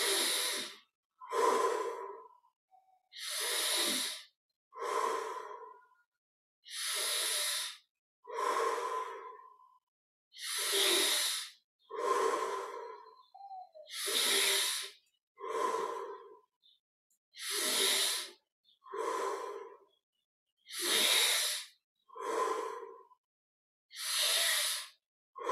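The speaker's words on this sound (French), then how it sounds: "Inspire par le nez, expire par la bouche, une vingtaine de fois." Deep, slow breaths repeat in a steady cycle, air drawn in through the nose and pushed out through the mouth, each breath a distinct close rushing swell separated by brief silences, with no talking.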